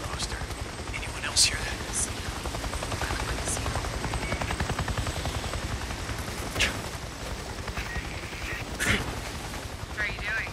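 A helicopter flies overhead in the Days Gone video game, a steady rapid rotor chop lasting throughout, with sharp game sound effects breaking through now and then.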